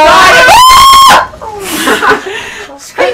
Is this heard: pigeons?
no